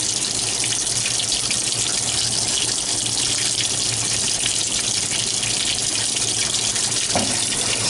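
A washing machine at an outdoor laundromat fills with water, a steady, constant loud hiss and gush with no pauses and no voices.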